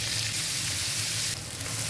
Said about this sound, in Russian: в эту сковородку, долила еще немножко масла, отправляю лучок